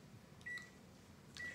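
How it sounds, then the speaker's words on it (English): A microwave oven heating noodles hums quietly and steadily, with two short electronic beeps sounding alone near the start and end. "My baby got them noodles going on in the microwave."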